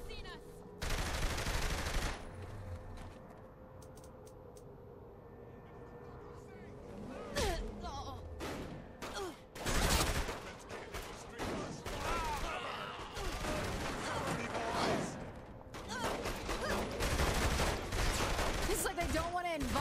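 Gunfire in the video game Saints Row: The Third, heard as repeated loud bursts of rapid shots between quieter stretches, with in-game voices speaking.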